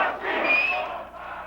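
A large crowd at a political protest shouts together in a loud, sustained chant of István Csurka's name that swells and then eases slightly.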